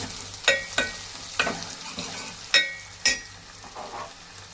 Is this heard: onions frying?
yes